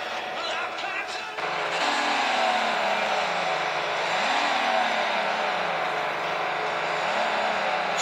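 A car racing game plays through the speaker of a BlackBerry PlayBook tablet, an engine tone rising and falling as it revs and shifts, loud and slightly tinny, with someone talking over it.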